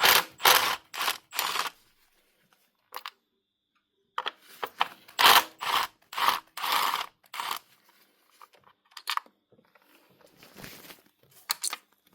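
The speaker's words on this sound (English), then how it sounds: "then we'll just undo these 10mm bolts, and then our coils will lift up off our spark plug" Ratcheting as 10mm ignition coil bolts are undone on a Nissan Qashqai engine, short bursts of close metallic clicking separated by silent pauses, no speech.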